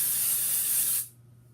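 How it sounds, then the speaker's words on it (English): Hairspray from an aerosol can sprayed onto hair in one steady, close hiss for about a second, then cut off. "flip the hair up, flip the hair to the opposite side, shake it up, and we spray."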